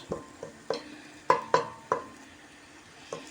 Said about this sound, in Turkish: soğanlar pembeleşinceye kadar güzelce kavuracağım arkadaşlar